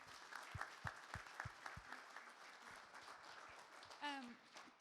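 Audience at a volunteer of the year awards ceremony applauding, scattered claps that thin out into a lighter patter, with a voice briefly speaking near the end.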